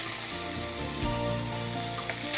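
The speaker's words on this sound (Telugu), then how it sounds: "కాస్త వేగనిచ్చి" Green chillies and carrot pieces fry in oil in a pan, producing a close, continuous crackling sizzle with light stirring clatter and no talk.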